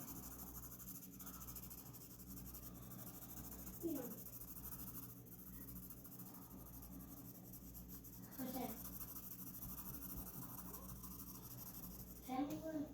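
A pencil shades on paper using the side of the lead, making faint, soft scratching and rubbing strokes with slightly stronger swipes every few seconds. The sound is quiet and close.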